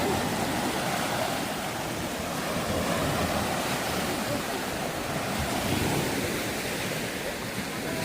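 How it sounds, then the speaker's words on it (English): Simulated waves churn in a resort pool at the Iberostar complex in Riviera Maya, a steady, loud broadband wash of surf and splashing water that holds evenly for the whole stretch with no talk over it. "this is one of the pools, and they have simulated waves"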